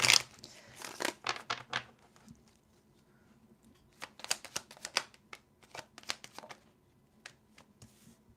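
Tarot cards being shuffled by hand in bursts of quick riffling and flicking, close and fairly quiet, with a short pause between two rounds of shuffling and no talking.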